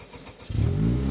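An Ariel Atom 4 engine starting: a short stretch of starter cranking pulses, then the engine catches into a loud, steady idle, close by.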